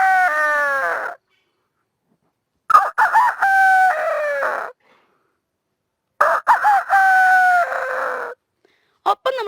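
A rooster crows three times in a quiet early morning, each call a loud, close, drawn-out cock-a-doodle-doo separated by a few seconds of silence, with brief clucks after the crows.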